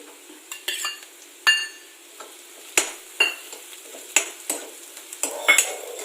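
Green chillies go into onions sautéing in a pan for a samosa filling: a soft frying sizzle under repeated sharp scrapes and clinks of a spoon against the metal pan, coming in irregular bursts.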